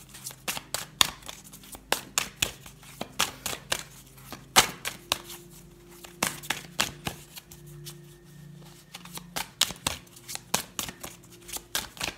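Oracle cards are shuffled and set down one after another, a long run of crisp, close slaps and flicks in an uneven rhythm, with a faint low hum underneath.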